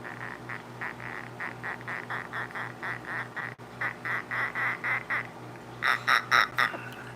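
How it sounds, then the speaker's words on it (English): A fussy pet bird calls in a steady run of short, rhythmic squawks. The calls sound fairly close and carry on for several seconds, growing louder and harsher near the end, over a low background hum. "You're a fussy old bird."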